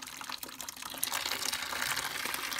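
Water drains out of a steam boiler in a steady rushing, gushing flow that grows slightly stronger, close by and with no talking.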